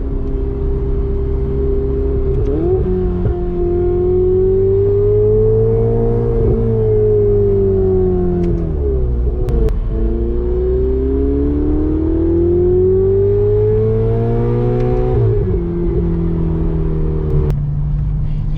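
A Ferrari 488 Spider engine hums loudly nearby, its pitch climbing and dropping as it revs up and eases off several times.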